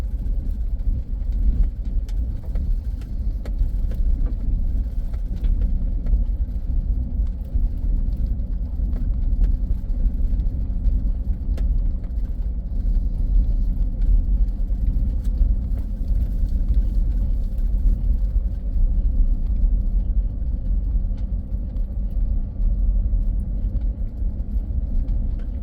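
A constant low engine rumble and road noise from a ride on a country road, steady and close throughout with no talking.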